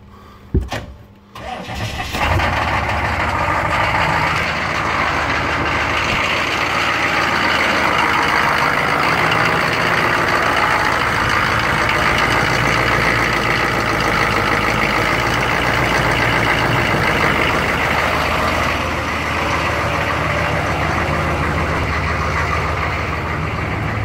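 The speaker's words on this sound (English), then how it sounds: "The truck is now running entirely off of seafoam." A 6.5 liter turbo diesel truck engine with about 560,000 miles, running on Seafoam after a fuel filter swap, cranks and catches, then settles into a loud, steady, rough idle that runs on alone.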